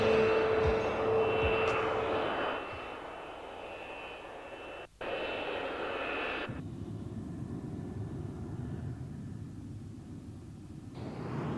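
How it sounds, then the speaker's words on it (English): Several F-15 Eagle fighter jets fly during a NATO exercise, their engines roaring loudly with a broad, sustained rumble and whine that shifts in intensity across the passage, with no talking. "Here, several F-15s go on a standard NATO exercise,"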